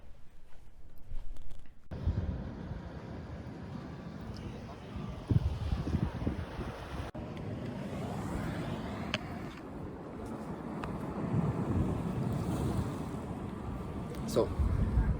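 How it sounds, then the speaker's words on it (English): Sea waves wash on the shore with strong wind buffeting the microphone, a loud continuous roar of surf and gusts close by. "behind me there's the sea"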